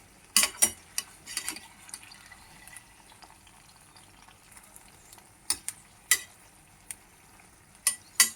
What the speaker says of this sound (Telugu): ఇలా కొంచెం బాగా వేయించుకోవాలండి. తొందరగా వేగిపోతుంది.